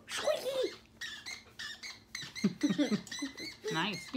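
A squeaky water bottle squeezed repeatedly, producing a run of high, rubbery squeaks in quick irregular bursts, heard close and mixed with voices speaking and mimicking the squeaks.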